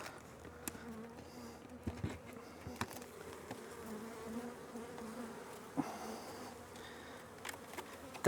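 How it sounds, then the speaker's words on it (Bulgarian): Honey bees drone steadily around an opened hive as frames are handled, a continuous low buzz with occasional faint knocks and handling sounds, no voices. "Така, качили са се вече пчелички по рамката."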